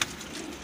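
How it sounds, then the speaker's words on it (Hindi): Pigeons in a mixed-colour breeding set give a brief, soft, low coo that sits close and moderately loud against faint ambient noise. "एक ये कबूतर बैठा।"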